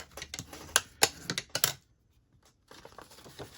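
A bone folder creases and folds paper for a scrapbook photo album gusset, a quick run of sharp, crisp paper snaps and crackles, a short silence, then softer rustling handling.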